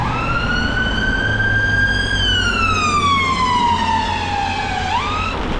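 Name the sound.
ambulance siren passing on the road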